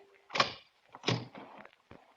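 In an old-time radio drama, a door is opened: a sharp latch click and thunk, then a second heavier knock and a creak of the door swinging, brief and close with no talking.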